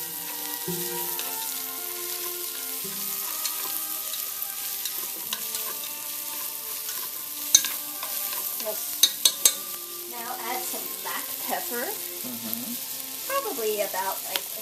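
Yu choy stir-frying with ginger in oil in a pan, a steady close sizzle with scraping stirs and a few sharp clinks of the utensil against the pan, plus bursts of crackling spatter toward the end.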